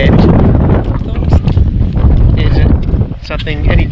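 Strong coastal wind roars and buffets the microphone in a steady, loud rush on the Western Australian coast near Geraldton, with brief gusty swells throughout.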